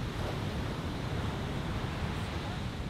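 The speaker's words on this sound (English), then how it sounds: "The waves in Hawaii are huge." Surf on the North Shore of Oahu, Hawaii, comes through as a steady, dense wash of crashing water and wind rush. It stays level and unbroken for about three seconds, with no clear voices.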